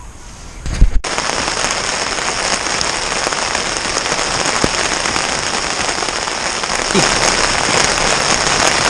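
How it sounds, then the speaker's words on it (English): Steady rain drums on a motorcycle tent, a dense continuous patter that starts abruptly after a brief quiet moment and continues loud and close with occasional heavier drops. "As you can hear, it's raining."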